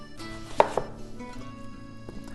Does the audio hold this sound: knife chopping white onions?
yes